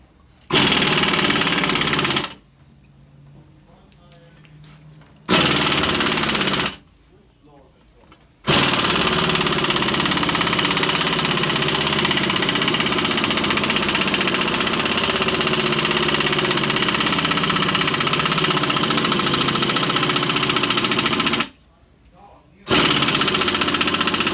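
An impact gun on a Mercedes ML350 tightens a lower ball joint press, buzzing and rattling loudly in several long runs separated by short pauses.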